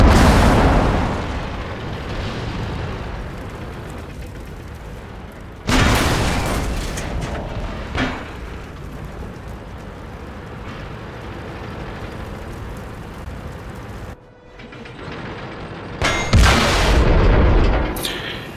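Tank cannon fire and explosions in a World of Tanks clan wars battle: heavy booming blasts at intervals, including a sharp shot near the start and bursts toward the end, over a continuous rumbling battle din.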